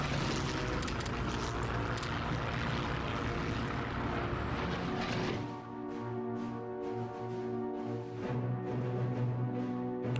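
Propeller aircraft engines drone steadily in the Hearts of Iron 3 strategy game as Swedish planes operate, a dense loud roar that thins into a steadier humming tone partway through, with no talk.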